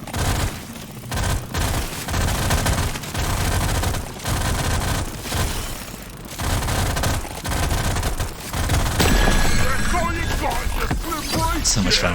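Rapid pistol fire from a Subata 120 in DRG: Survivor rattles in dense bursts with short pauses, mixed with booming impacts and game effects, fairly loud throughout and busier near the end.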